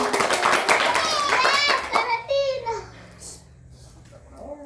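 Children clap in a quick, scattered burst while young voices chatter over it, then the clapping stops and an adult voice speaks.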